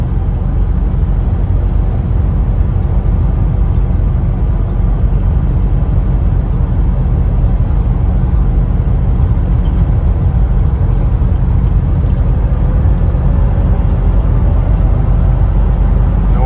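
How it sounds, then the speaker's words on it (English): A 1980 Ford Bronco cruising at 70 miles per hour on new tires, a loud continuous rumble of road and wind noise from inside the cab, steady throughout. "you can see we're up 70 miles an hour and doesn't have any vibrations or anything"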